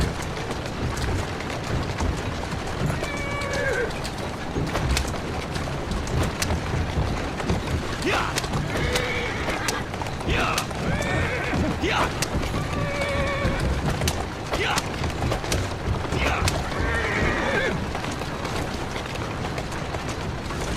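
A horse whinnies several times over continuous hoof clops and rumbling movement in Assassin's Creed Syndicate, with game background ambience throughout.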